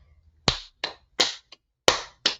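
Hand claps sound alone in a quiet room: five sharp, close claps at an uneven pace, with one softer tap between them and no voice.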